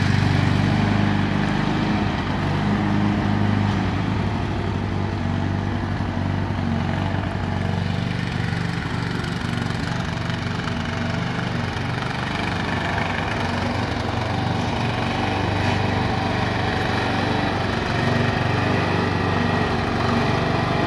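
The engine of a Craftsman riding lawn mower runs at a steady, rumbling idle, low and continuous for over twenty seconds with a constant buzzing vibration and no talking.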